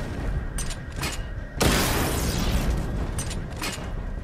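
Missile barrage explosions from the Batmobile in Batman Arkham Knight: after a few sharp clicks, a loud, sustained wall of booming blasts and crackling bursts erupts and rolls on, with rapid pops flickering through it.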